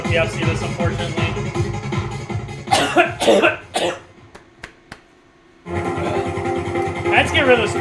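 A few harsh coughs and throat clears come close and loud from a player at a DDR A3 dance arcade machine, set against the continuous music and noise of the game, with short breaks between them.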